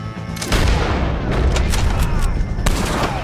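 Gunfire in Red Dead Redemption 2 during a fight with O'Driscoll gang members, loud, dense booming shots and cracks overlapping continuously with no clear gaps, close and heavy throughout.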